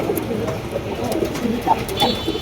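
Pigeons of fancy breeds kept for sale coo in soft, repeated low calls close by, with several birds overlapping in a continuous murmur.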